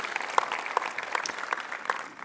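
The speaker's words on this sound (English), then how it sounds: "definitely applause for them." Audience applause at the Devoxx Belgium 2018 conference keynote, a steady dense patter of many hands with a few sharper claps standing out, moderately loud and without talk, fading slightly at the end.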